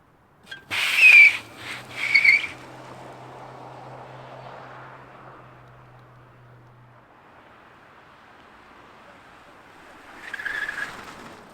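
A 2023 Ford Mach-E GT Performance Edition electric SUV drives by, with a couple of sharp whistling chirps at first, then a faint, smooth whoosh that fades, and a brief louder rush near the end.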